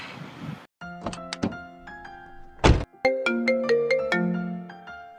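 A mobile phone rings with a bright repeating melodic tone in short rising phrases, preceded by a couple of thunks and a door-like clunk, loud and close in a quiet room.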